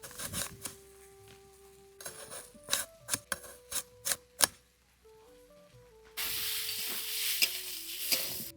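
Banana flower being sautéed and stirred in a pan, with slit green chillies added: a string of sharp scraping stirs and clacks, then a steady, louder sizzle in the last seconds, close by with no talk.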